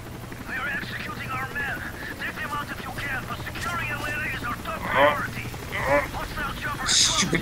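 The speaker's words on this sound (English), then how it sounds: "Stupid chopper!" A helicopter in a Call of Duty video game, its rotor drone steady beneath the mix, with voices talking over it and occasional gunfire bursts and game sound effects.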